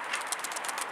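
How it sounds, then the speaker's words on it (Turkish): Rapid, rhythmic fluttering of about 150 pigeons taking flight nearby, soft whooshing beats repeating quickly. "150'ye yakın kuş uçuyor arkadaşlar."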